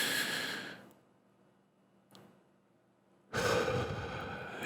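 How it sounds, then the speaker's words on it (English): A person takes deep breaths, a long airy exhale trailing into quiet, a brief faint breath in the middle, then a sudden loud inhale that carries on to the end, all close to the microphone. "take a deep breath"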